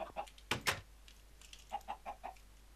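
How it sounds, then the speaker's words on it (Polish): Minecraft chickens cluck in a few short, soft bursts around a farm area, with a couple of brighter sharp game sounds early on and no speech. "Robić mi tu kurczaki."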